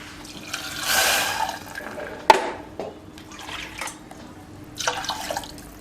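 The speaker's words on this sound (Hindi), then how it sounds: "तो ये दाल भीग गई, तो थोड़ा पानी डाल देते हैं इसमें।" Water poured into a bowl of soaked moong and chana dal, a soft splashing pour that swells early, eases, then returns in short bursts with a sharp clink midway, close and alone.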